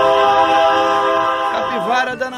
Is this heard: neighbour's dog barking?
no